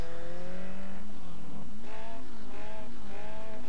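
A car slides in a sustained drift in Need for Speed: San Andreas, engine droning steadily as the pitch dips and rises again, tires hissing loud and close.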